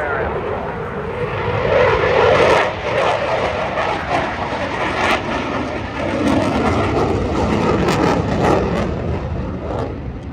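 A jet aircraft roars through a tight, small-radius turn during a Battle of Britain fly-past, a steady, loud, broad engine rush with a faint high whine throughout, a voice commenting over it.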